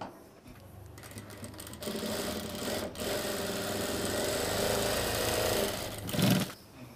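A sewing machine runs continuously while stitching a shirt armhole, a close, steady mechanical whir with a brief pause and a louder surge near the end.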